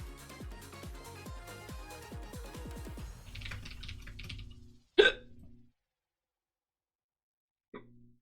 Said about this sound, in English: Sorry for the loud hiccup.